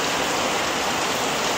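Heavy rain pours down steadily outdoors in Indonesia, a dense, even wash of close, loud hiss and patter with no break and no voices across the short stretch.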